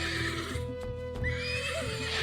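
A horse neighs loudly nearby, a long wavering whinny with a few faint hoof clops in the background.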